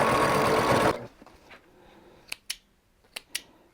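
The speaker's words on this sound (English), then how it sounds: "so I can resume my sewing" A sewing machine quilting a batik throw runs in a loud, dense burst for about a second, then stops, leaving a quiet room with a few sharp clicks and snips.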